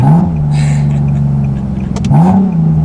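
Supercharged 400 WHP Nissan 370Z engine revving hard under acceleration, two rising pulls with a loud steady drone between them and a gear change near the end, close and alone.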